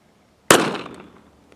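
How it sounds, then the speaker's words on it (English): One sharp, loud gunshot from a Kel-Tec PMR-30 pistol firing CCI Maxi-Mag .22 Magnum 30-grain hollow points cracks after a short silence, then decays over about a second, with no talk. "getting ready to shoot 22 mag. This is the maxi-mag hollow point plus V 30 grain bullet by CCI"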